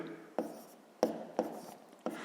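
A pen writes numbers on paper, four distinct taps and strokes spaced about half a second apart, close and quiet.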